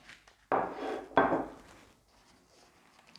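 Cucumber seeds poured roughly into a handmade paper seed packet, with two short rattling pours followed by faint rustling in a quiet room.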